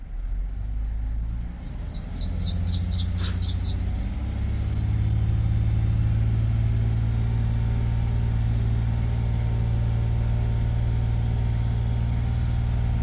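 A truck engine running and then settling to idle, a loud steady low rumble with a shrill chirping squeal early on.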